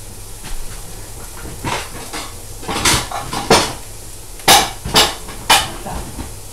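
Several sharp metallic clatters of pots and pans being handled, irregular knocks and scrapes close by over a low background hiss, no talking.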